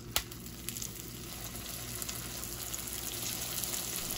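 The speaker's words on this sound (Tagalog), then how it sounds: "At kapag mainit na ang ating mantika ay pwede mo na iprito ang ating lumpiang Shanghai." Lumpia Shanghai spring rolls fry in hot oil in a pan with a steady, close, even sizzle and no talking.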